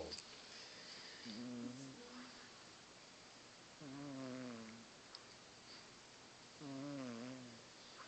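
A cat snores indoors in three slow, rough, rhythmic breaths spaced a few seconds apart, faint and close against a steady hiss of background noise.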